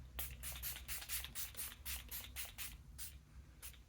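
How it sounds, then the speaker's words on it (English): Rapid pumps of a fine makeup setting spray mist, about a dozen quick hissing spritzes in a row, close and fairly quiet. "I'm gonna add a little bit more setting spray."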